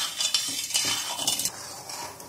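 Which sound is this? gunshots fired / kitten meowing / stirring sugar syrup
stirring sugar syrup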